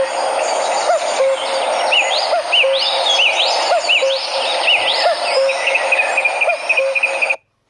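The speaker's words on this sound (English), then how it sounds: "Cuckoo." A cuckoo repeats its two-note call at a regular pace over a busy background of other birdsong and chirping, the calls clear and fairly near throughout.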